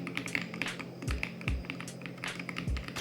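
Keys clack on a Royal Kludge RK65, a 65% mechanical keyboard, in an irregular run of close, crisp taps with a few deeper thocks from heavier presses, with nobody speaking.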